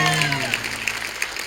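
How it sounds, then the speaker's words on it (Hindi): Studio audience applause on a comedy talk show, a short burst of claps rising as a musical sting fades out, lasting about a second and a half. "जोरदार तालियां चंदू के लिए।"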